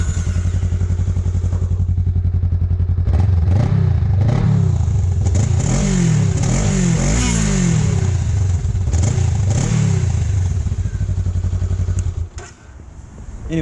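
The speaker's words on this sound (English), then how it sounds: "here's what the stock one sounds like" A 2019 Honda Rebel 500 motorcycle on its stock exhaust idles close by, then is revved several times in quick rising and falling bursts before settling back to idle and cutting off near the end.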